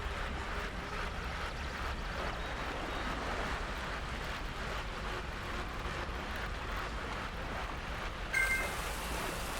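Virtual rain in the Zwift cycling game: a steady, dense wash of rainfall noise, even and continuous throughout, with a small bump near the end.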